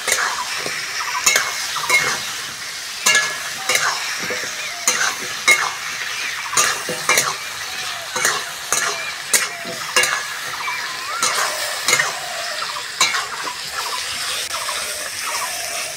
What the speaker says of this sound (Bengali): মশলার সঙ্গে আলুটা ভালো করে ভেজে নিয়েছি